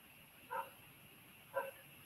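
A dog somewhere outside in a noisy city gives two short, faint barks about a second apart, far off, over a low background hum heard from a high apartment floor.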